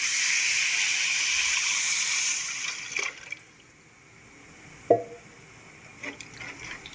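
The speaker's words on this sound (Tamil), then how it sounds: "அடுத்து புளி தண்ணி எடுத்து வச்சுருக்கோம்ல அதை ஆட் பண்ணிக்கலாம்" Tamarind water is poured into a fish curry spice mix for a sardine curry, a continuous close liquid pour and splash for a couple of seconds, then quiet with a few small clinks and taps.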